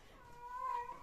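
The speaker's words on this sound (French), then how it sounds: "J'ai mon chat qui est en chaleur" A cat in heat lets out a single drawn-out meow, fairly faint and somewhat distant in a quiet room.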